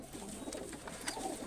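A flying pigeon coos softly and steadily against a constant background hiss, with a few faint higher notes over the low murmur.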